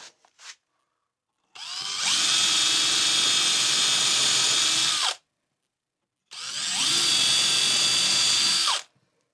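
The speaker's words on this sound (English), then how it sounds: "Get a drill." A power drill whines loudly in two sustained bursts of a few seconds each, separated by a short silence.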